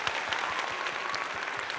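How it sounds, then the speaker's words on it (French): Applause welcoming a guest onto a live stream, a short continuous burst of clapping at an even level with no voices over it. "on t'applaudit"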